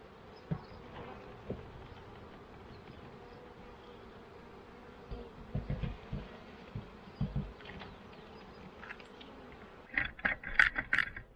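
Honey bee nurse workers buzz steadily around a hive cell builder, a close, continuous insect drone with scattered louder passes and soft knocks of hive equipment, with no talking.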